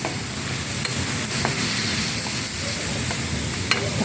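Chayote stir-fries in a hot pan, a steady close sizzling hiss with occasional soft scrapes and clicks of a utensil, no talking.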